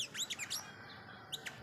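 A small olive-backed sunbird gives quick, high chirps in short bursts, then falls quiet before a couple more tweets, fairly faint.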